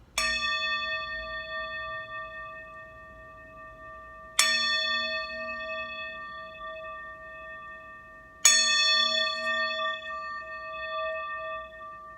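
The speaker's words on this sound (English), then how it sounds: "I want to bring us to center with tapping of the singing bowl" A singing bowl is struck three times at even intervals of about four seconds, each strike a bright metallic ring that sustains and slowly fades before the next, heard clearly alone.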